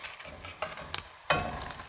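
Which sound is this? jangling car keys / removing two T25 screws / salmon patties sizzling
salmon patties sizzling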